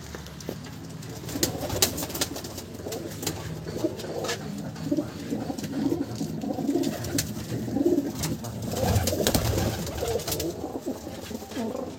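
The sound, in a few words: pigeons cooing in a pigeon loft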